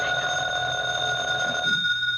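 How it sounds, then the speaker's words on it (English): Old-time radio drama telephone bell ringing steadily, a bright continuous electric ring held for most of the moment and then cut off abruptly, close and alone with no voices. "The phone."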